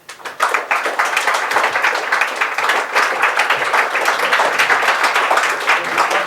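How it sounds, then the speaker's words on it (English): Loud, sustained audience applause fills the room after a speech, a dense steady wash of many hands clapping that starts abruptly and holds at full strength without any talking. "I think the applause cue there lasted about a second."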